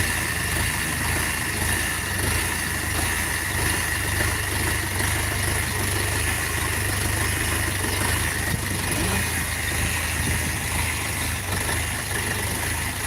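A 450 mini tractor with forced hitch idles steadily, a constant low engine drone with an even throbbing rhythm, near and loud throughout with no voices.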